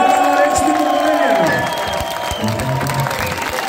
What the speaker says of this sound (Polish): Brawa dla nich, co to za brawa!